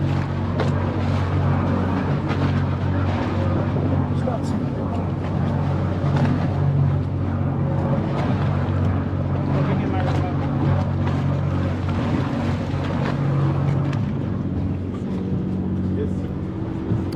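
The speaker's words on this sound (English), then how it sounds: "That's the inside of the boat." A boat engine drones steadily and loudly as heard from inside the hull, a constant low rumble with wind and water noise, and people talking over it.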